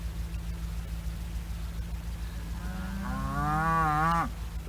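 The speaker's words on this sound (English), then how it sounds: "And there's the cows. They think they're going to get some feed." Farm cows mooing loudly for feed in a pasture near a fence being repaired, one long rising and falling moo swelling near the end over a steady low background hum.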